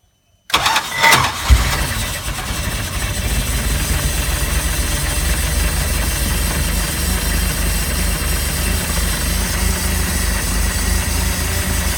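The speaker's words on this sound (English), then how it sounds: "I'll give it two more pumps, and give it another crank and see how we go." A Mercruiser 3.0 litre boat engine with a repaired starter motor cranks briefly, catches and starts, then settles into a steady, loud, rumbling idle that runs alone to the end.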